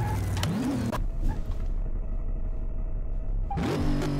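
A modded school bus in Car Mechanic Simulator 2018 accelerates hard, its game engine rising in pitch, dropping back, then revving up again over about four seconds with no talk.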